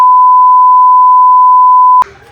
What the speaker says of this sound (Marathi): बस आता हे मला बीप बीप करावं लागेल ना